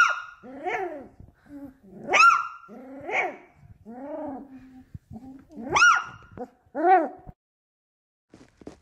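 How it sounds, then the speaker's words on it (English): A puppy barks and yelps repeatedly, high-pitched, close and loud, in irregular bursts with brief pauses, ending in quiet. "This puppy keeps barking."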